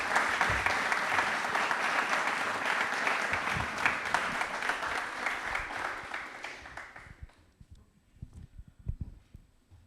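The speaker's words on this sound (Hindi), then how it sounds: "प्लीज एक बार तालियां हो जाए रुचि मैम के लिए" Loud, enthusiastic applause from a studio audience welcomes a computer science department head onto a Rajasthan quiz programme, a dense burst of clapping that fades away after about seven seconds into scattered claps and quiet.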